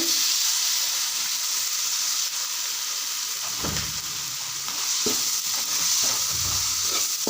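Onion, tomato and ginger garlic paste fry in a pan with a steady close hiss and sizzle, while a few low scraping stirs and soft knocks come through midway.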